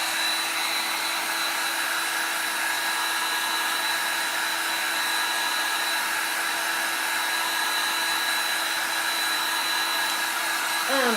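A hair dryer blows steadily over a freshly painted paint inlay to dry it to the touch, a constant close whooshing drone with a faint whine that holds at an even level throughout, with no talking.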